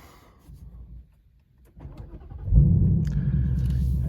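A Ford Mustang Mach 1 V8 starts up: a few quiet clicks and rustles, then a loud engine catch at about two and a half seconds that settles into a steady, deep, rumbling idle, close by.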